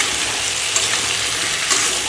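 Long thin-cut potato strips frying in hot oil, a continuous close, bright sizzle with faint crackles and a couple of small stirring clinks, no voices over it.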